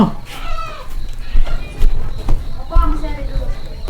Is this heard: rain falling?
no